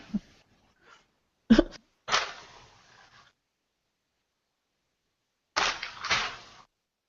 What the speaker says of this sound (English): Hold on, I'm sneezing real quick.